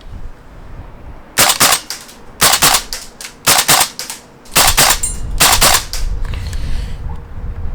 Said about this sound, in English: we'll finish the magazine off with a mag dump